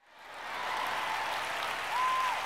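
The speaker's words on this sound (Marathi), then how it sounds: "आधीच्या 2 वेळेपेक्षा जरा कमीच वाजल्या टाळ्या" Applause from an audience at a sermon, a steady wash of clapping that swells in and holds for a couple of seconds, moderately loud with no speech over it.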